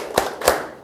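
Classroom of students clapping the WOW clap pattern: two quick bursts of claps in rhythm, fairly close.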